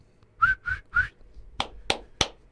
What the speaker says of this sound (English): You are whistling.